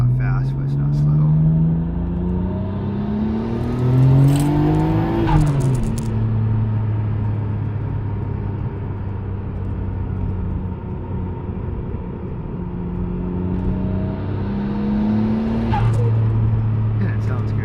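A Nissan GTR runs on a dyno, its engine note climbing steadily through the revs before dropping sharply, then holding a loud, continuous drone, with a voice talking over it.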